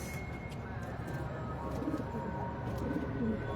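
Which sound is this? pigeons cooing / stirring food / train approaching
pigeons cooing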